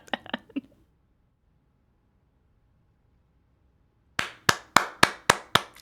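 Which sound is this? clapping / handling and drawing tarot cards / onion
clapping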